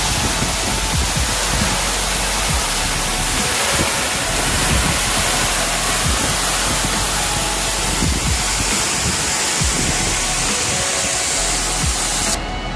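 Spray from Todke Falls roars as steady, loud, broadband hiss close by, unbroken throughout and with no voices.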